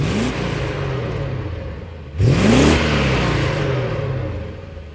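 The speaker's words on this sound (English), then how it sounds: "that engine fan is all you can hear" A Mercedes-Benz 560 SEC (C126) engine runs steadily with its engine fan whirring loudly over it, a continuous broadband rush that swells briefly louder partway through, heard close and without talk.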